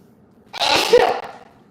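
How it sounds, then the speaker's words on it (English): One close, loud human sneeze, a short inhale building into a sharp burst, in a quiet indoor room with no talking. "I have to sneeze."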